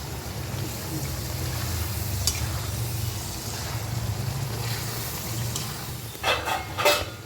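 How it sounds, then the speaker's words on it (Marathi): Potatoes and masala cooking in a pan, a steady low sizzle and bubbling throughout, with a few clinks of a utensil near the end; no talking. "त्याची आता मसाला छानपैकी शिजून घेऊ द्या"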